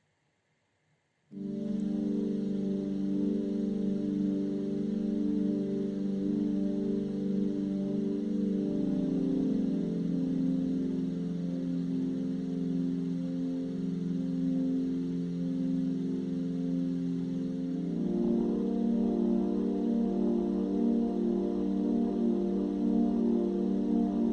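A long, sustained wash of overdriven guitar chords with a sweeping flanger-chorus texture and lush reverb, shifting chord partway through, played alone.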